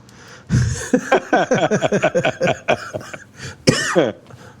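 A burst of harsh, repeated coughing, close and loud, in a rapid series of hacks with a brief pause before a final few coughs.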